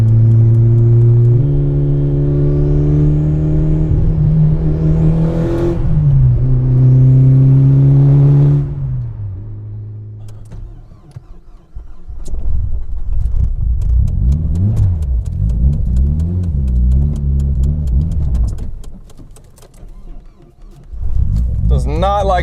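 A turbocharged Mitsubishi Evo IV engine idles roughly nearby. Its loud, uneven rumble swells and sags through the clip, with a rising rev early on and a voice at times over it.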